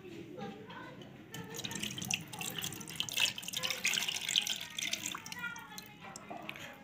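Water poured into a container, measured out as 500 ml for mixing an aftershave formulation with aluminium sulfate; a steady close splashing and dripping runs throughout, faint and continuous.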